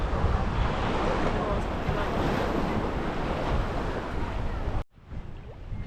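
Sea waves roll in at a shallow beach in Sardinia, a loud continuous surf wash with strong wind buffeting the microphone, cutting out abruptly near the end before quieter surf resumes.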